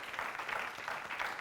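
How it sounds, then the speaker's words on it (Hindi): A game-show studio audience gives a brief burst of steady, moderately loud applause for the contestants. "इनके लिए जोरदार तालियां"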